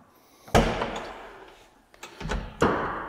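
A tractor cab door with a new door strut opening and closing, a loud metallic thunk followed by rattling, then a second latching slam, close by with no talk.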